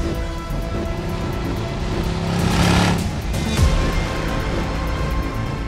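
A 2023 Land Rover Defender 90 V8 on the move, with a steady engine drone and road rumble that swells and eases, heard from inside the vehicle.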